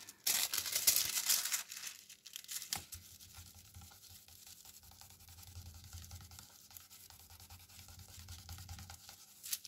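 Gold transfer foil from Action crinkles and tears as it is handled and peeled, a loud rustling burst at first, then softer intermittent crackling over a low hum, with no talking.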